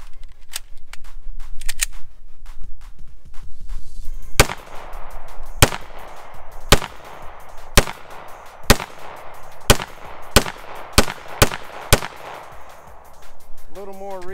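Sharp gunshots from a Ruger 5.7 pistol firing FN ballistic tip rounds, about nine close, loud reports spaced roughly a second apart, growing quicker toward the end, with quiet gaps between them.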